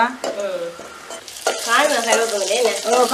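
Onions and curry leaves fry in a pot, a loud sizzling hiss that swells midway, with stirring scrapes and a voice murmuring underneath.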